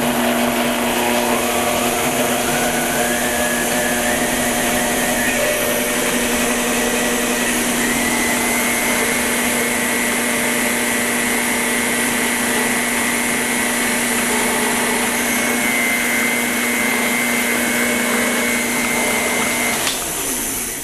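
An electric hand mixer whirs steadily for about twenty seconds, creaming butter, sugar, blackstrap molasses and farm-fresh egg for ginger cookies, with a constant motor hum and no speech.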